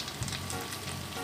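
Grilled chicken pieces sizzling in a hot wok, a short, steady crackling hiss up close with no voices.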